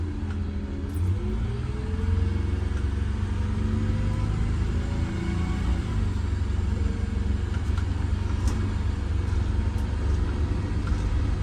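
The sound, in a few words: car driving on a test drive around a square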